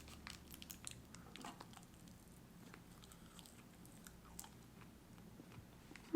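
Close, quiet chewing and crunching of a salmon rice bowl with crisp chips, soft irregular bites and mouth sounds spread steadily across the moment, with no talking.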